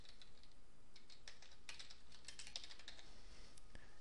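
Quiet, steady keyboard typing as a portfolio name is entered on a computer, a run of soft, quick key clicks with no talking.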